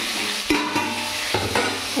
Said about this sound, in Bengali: এখানে ইলিশ মাছের মাথাটা ভাজা হচ্ছে